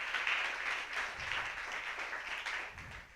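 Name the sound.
audience applause in church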